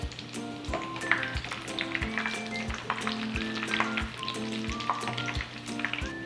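Kerala-style prawn rolls frying in hot oil make a close, continuous bubbling sizzle, dotted with crackles and occasional thuds from a turning utensil.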